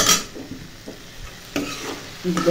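Eggplant and potato slices frying in a pan, a soft continuous sizzle broken by several brisk stirring scrapes and clinks of a utensil, close and moderately loud.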